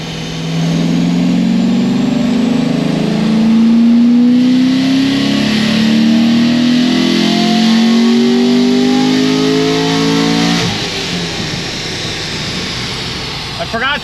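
Naturally aspirated 650 rwhp Chevrolet Corvette C6 Z06 with exhaust valves, its engine pulling in a long, loud, steadily rising drone that shifts abruptly near the end, with speech underneath.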